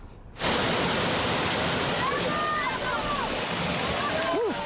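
A 20-meter waterfall at the International Waterfall Jumps in Bosnia and Herzegovina roars as a loud, steady, broadband rush after a quiet start, with faint whistles and calls rising over the water near the end.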